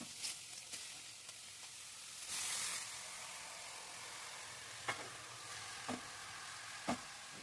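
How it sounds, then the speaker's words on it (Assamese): Carrots sizzle in ghee with bay leaves in a pan over a low flame for carrot halwa. A soft, steady frying hiss carries a brief louder burst and a few sharp stirring clicks near the end. "গাজৰৰ হালোৱা বনালে মেইন কথাটো হৈছে গাজৰটো খুব ভালদৰে ভাজিব লাগিব"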